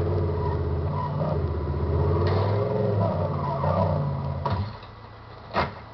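A car engine rumbles and revs steadily while being parked, a close mid-pitched drone that swells and eases before dropping off, followed by a short thud near the end.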